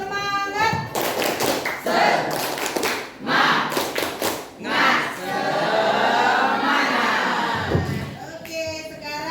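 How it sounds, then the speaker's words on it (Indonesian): A classroom of children performs a rhythmic 'tepuk semangat' cheer, clapping in quick patterned bursts, then breaking into a louder wash of group clapping and voices before fading. "Ya, tepuk semangat."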